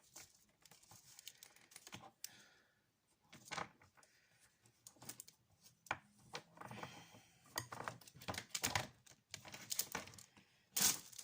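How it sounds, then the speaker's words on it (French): Light, irregular taps and clinks on a drinking glass come in scattered bursts, some sharper and louder than others, with no talking. "j'ai un verre à côté, je tape dessus"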